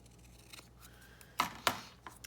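Scissors trim a small paper image of Glinda the Good Witch for a crafted domino journal, giving two sharp, close snips in quick succession with a lighter snip after, against a quiet room.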